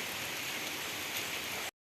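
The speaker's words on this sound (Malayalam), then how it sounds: "പക്ഷേ ഭയങ്കര മഴ" Heavy rain pours steadily in a dense, loud hiss with no voices, then cuts off abruptly.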